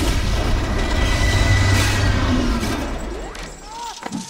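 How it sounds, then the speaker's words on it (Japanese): A laboratory explosion as a fusion reactor demonstration overloads and goes unstable in the Doctor Octopus story from Spider-Man: a loud, sustained roaring blast with heavy low rumble that slowly fades, ending in scattered crashing debris. "爆発事故を起こしてしまう。"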